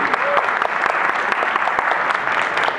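A concert audience at the Central House of Artists applauds steadily, with many individual claps forming an even, continuous patter that carries at a moderate level from start to finish.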